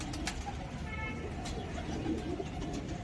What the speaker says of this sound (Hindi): सभी कबूतर जो है चाव के साथ इस मिट्टी को खाने लगे हैं।